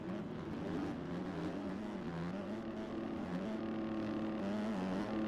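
Motocross bikes race in a pro championship round, a Kawasaki among them, their engines a dense continuous drone of rising and falling revs with no clear single passes.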